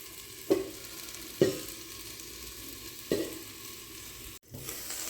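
Onions sauté in oil in a pan for vegetable biryani, a soft steady sizzle broken by three distinct scraping stirs of a spoon, close and moderately quiet.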